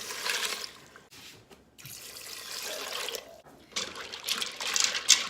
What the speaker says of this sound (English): And then add 4 cups of water.